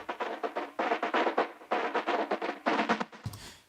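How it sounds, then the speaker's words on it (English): A short sampled drum fill from Arcade in a Studio One beat, with quick rhythmic hits in three rolling bursts, bright and close, ending in a lower thump. "added this little drum fill thingy here."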